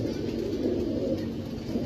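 Pigeons, black and white birds kept on a rooftop, coo in a steady low murmur that runs throughout without pause.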